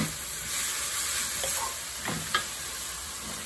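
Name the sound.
pea sprouts stir-frying in a wok on high heat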